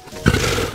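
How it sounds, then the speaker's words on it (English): A lion's roar played as a recorded animal sound in a children's read-aloud, one loud, harsh burst starting about a third of the way in and holding steady to the end, with no talking. "So the lion makes a roaring sound."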